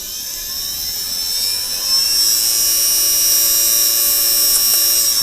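An Arduino-controlled overhead stirrer motor runs steadily with a loud, sustained high-pitched whine, rising slightly in pitch and level partway through and then holding even to the end, with no talk over it.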